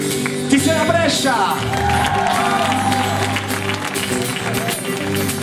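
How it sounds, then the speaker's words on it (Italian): A concert audience at a gospel performance at a festival applauds and cheers, loud and steady clapping mixed with crowd noise and shouts, with music and a voice underneath. "Applausone per stasera"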